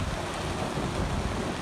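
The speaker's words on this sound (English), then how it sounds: "The wind's picking up." Steady, dense broadband roar of wind and rain during a nighttime rainstorm, loud and unbroken with no voices.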